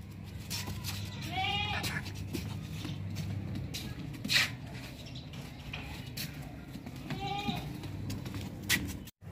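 A healthy brown Teddy breed goat bleats twice, loud and close, with a long gap between the calls, over a steady low hum and rustling while it eats.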